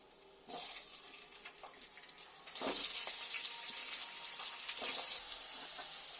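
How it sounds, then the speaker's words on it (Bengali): Sliced potatoes hit hot oil that was just used to fry fish in a home kitchen, giving a soft hiss that swells into a steady sizzle partway through and keeps going at a moderate, fairly quiet level. "এবার এই তেলের মধ্যে আমি আলুগুলো ভেজে নেব।"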